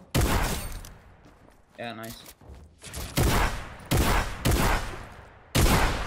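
Gunfire in the video game Fortnite comes as several loud, sharp bursts of rapid shots spaced a second or so apart, with a voice speaking briefly between them.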